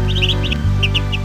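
Crow chicks chirp in a cartoon story, giving a few quick, high, thin tweets in small bursts over a steady background hum, with no talking.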